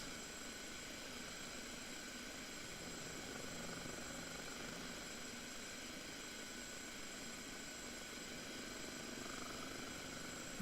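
A Kiowa helicopter in the DCS flight simulator holds a hover, giving a steady, unbroken engine and rotor drone with a constant whine, heard alone at an even level.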